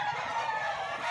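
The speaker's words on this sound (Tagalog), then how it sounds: "Sabay na ang manok." Chickens cluck softly and steadily through a short stretch of continuous background noise on a Filipino home garden plot, with no speech.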